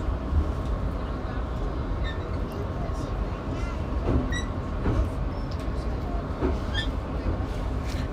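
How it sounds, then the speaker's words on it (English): Interior of a moving train heading toward Mt. Fuji, with a steady loud rumble of wheels and carriage throughout, faint brief squeals and clicks, and people talking quietly in the background. "Just had another train stop."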